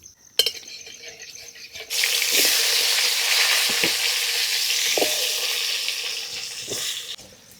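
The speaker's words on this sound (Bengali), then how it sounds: "আলুটা ভাজবো কড়াই গরম দিয়ে দিচ্ছি সর্ষের তেল" A sharp clack, then a sudden loud sizzle as potatoes hit hot mustard oil in a wok, frying steadily with occasional stirring knocks before it fades.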